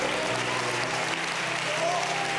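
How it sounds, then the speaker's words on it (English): Church congregation clapping hands in praise, a dense, steady wash of applause from many people in a large room, with voices faintly audible beneath it. "let's clap our hands unto the Lord and give Him praise."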